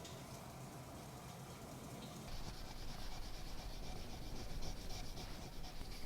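Sandpaper rubbing over a lacquered IKEA glass cup: a steady, close, dry abrasive scrubbing that continues without a break and grows slightly louder and denser partway through, with no voices.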